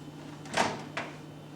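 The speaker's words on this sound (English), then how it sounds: "we are now going to take it out of the microwave" A microwave oven door clicks open with a short latch pop followed by a second brief thump, close by in a quiet room with a low steady hum.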